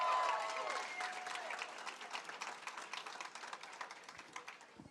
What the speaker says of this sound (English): I want you to give a round of applause to Ed Perlmutter